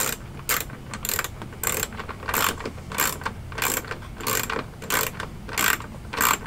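A ratchet wrench clicks rapidly as a tail light nut is tightened on a BMW F30, several quick bursts of close, sharp ratcheting separated by short pauses, with no talking.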